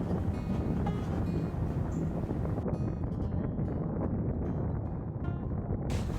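Wind buffets a 2022 Royal Enfield Himalayan motorcycle at highway speed, a constant loud low roar of rushing air and engine with no break across the whole stretch.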